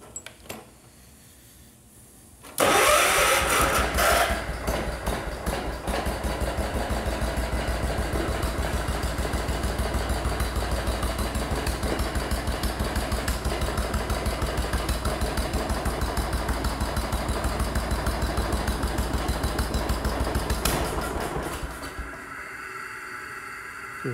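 A Kohler K241 engine in a tractor cranks and fires, then settles into a loud, steady idle that continues for about twenty seconds before dropping away.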